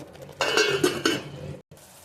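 Curry masala for a sprouted moth bean curry is sautéed in a pan, with a short burst of clattering, scraping utensil strokes against the metal, close by, then a brief silence and a faint tail.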